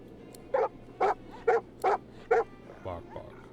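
Hellhounds in the video game Divinity Original Sin 2 barking five times in an even rhythm, sharp and fairly close, followed by a lower whimpering growl.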